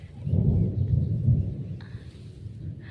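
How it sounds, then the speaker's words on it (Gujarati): A low, rolling rumble of thunder swells and fades, fairly distant, with faint higher noises drifting in near the end. "ઓલા ખોણામાં બહુ વીજ પડે છે"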